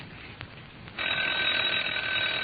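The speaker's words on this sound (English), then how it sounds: "There goes that darn phone now." A telephone bell rings loudly and steadily in a 1931 old-time radio comedy, starting abruptly after a short quiet lead-in and continuing without a break. No one speaks over it.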